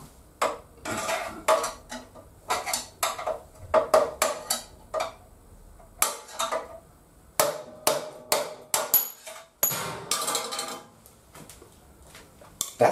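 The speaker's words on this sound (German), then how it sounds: "die Lagerschalen hier rauszuschlagen" Sharp metallic hammer blows ring out in quick irregular bursts, striking hard metal again and again at close range, as bearing cups are hammered out of a Solex 6000 moped frame.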